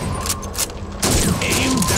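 Rifle shots ring out on a Soviet shooting range in Call of Duty 2, aimed at bottles and plates. A few sharp reports come close together, with a clearer crack about halfway through over steady background ambience.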